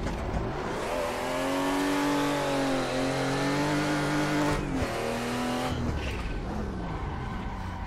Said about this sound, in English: The S14, probably not my favorite car to drive.